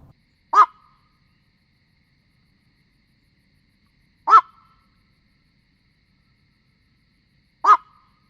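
Night heron giving three short, harsh single calls spaced a few seconds apart, each sharp and isolated against near silence.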